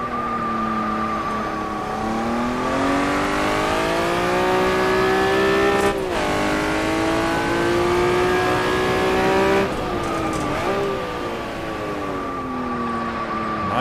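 A Honda NSX Type R engine in a racing video game accelerates around Tsukuba, a loud steady rising drone that dips briefly at two gear changes and climbs again.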